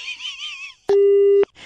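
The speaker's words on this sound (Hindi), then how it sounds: "फोन काट दिया, फिर से लगाऊं या रहने दूं?" A telephone disconnect tone after a call is cut off: one steady, loud electronic beep lasting about half a second, preceded by a voice speaking.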